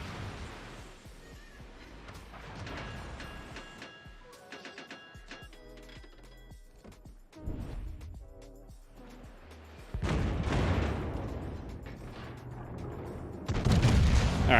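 Battleship HMS Hood fires salvos in World of Warships, heavy booming gun blasts and rumbling explosions recurring through a busy battle soundscape, with the loudest thuds toward the end.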